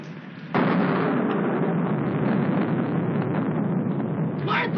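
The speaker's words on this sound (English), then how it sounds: "I'm afraid of the thunder and lightning." Thunder in a 1946 film noir breaks with a sudden loud crack, then rumbles on as a dense, sustained roll with a steady rain-like hiss.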